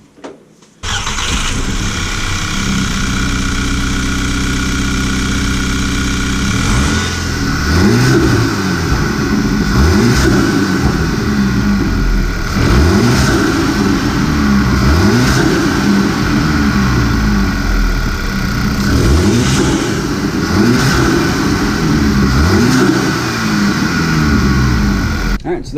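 A Mk6 Volkswagen GTI fitted with an Injen intake idles steadily, then revs repeatedly in a series of rising and falling sweeps, loud and close, with the intake note prominent over the engine drone.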